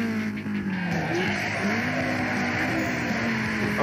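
Car braking with tire squeal in Need for Speed Underground 2, a droning engine tone under a long, sustained squealing skid, loud and continuous throughout.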